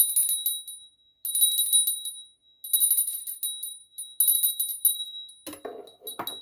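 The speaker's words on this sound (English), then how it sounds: "I need to ring this bell" A small hand bell is rung in repeated shaking bursts to clear energy, its bright ringing loud and close, with a few clattering handling noises at the end.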